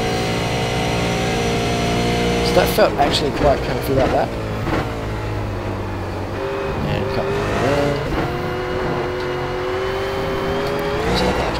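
A V8 race car engine in iRacing at Road Atlanta drones loudly and steadily near the listener, with harmonic pitch shifting as revs rise and fall through gear changes, while someone talks over it.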